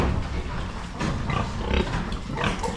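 Pigs on a farm grunt in a continuous low, rough chorus of overlapping snorts, moderately close, with no talking.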